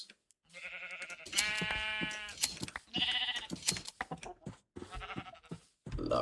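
Several sheep in the Minecraft video game bleat in a run of loud, wavering cries, one after another with short gaps, alone without talk.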